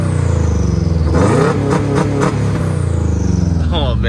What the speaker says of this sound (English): So it definitely has a Subaru rumble.